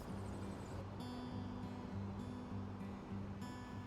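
Surf rolling onto the beach at Discovery Bay, a steady broad wash of breaking waves heard at moderate distance, continuous and fairly faint with a low hum running beneath it.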